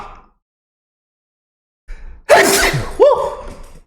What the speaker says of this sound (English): that heifer made me sneeze